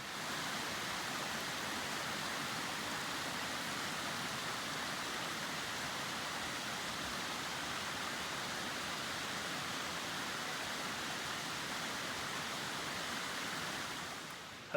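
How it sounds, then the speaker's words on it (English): A distant waterfall in the Ochoco mountains gives a faint, even rush of falling water that runs unbroken and alone throughout. "right up there is a pretty cool waterfall"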